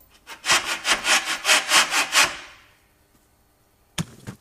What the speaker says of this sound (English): poly bushings is, if they're not greased or maintained properly, they sound a bit like this after a while